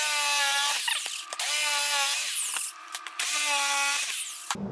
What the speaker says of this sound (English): Now we'll use the jigsaw to go across the back side of each of these.